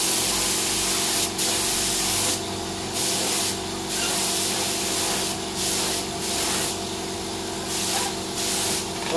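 An HVLP spray gun hisses loudly and continuously at close range, its broad airy rush broken by brief pulses and short pauses as the trigger is worked.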